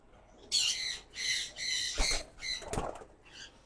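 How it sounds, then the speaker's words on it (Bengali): Several crested doves flutter and call in short bursts close by, wings flapping between rough, squawking coos, with no talking. "অনেকগুলো ঝুটিওয়ালা ঘুঘু হয়েছে"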